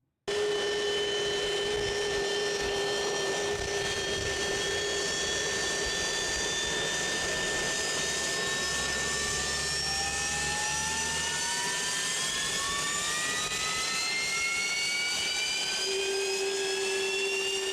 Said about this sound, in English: Now you're hearing the jet engine, the high-pitched whine of the actual jet engines instead of the turbine.